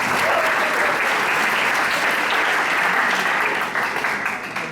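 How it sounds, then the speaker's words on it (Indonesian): A classroom full of students claps for a classmate at the back, dense and loud at first, then thinning and fading toward the end. "Tepuk tangan ya buat teman kita yang di belakang."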